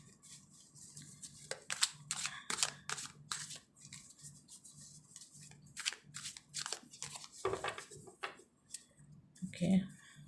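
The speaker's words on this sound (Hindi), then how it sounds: "हम कार्ड शफल करेंगे।" Tarot cards are shuffled by hand in short bursts of crisp riffling and snapping card sounds, close by, with pauses between and a faint handling bump near the end.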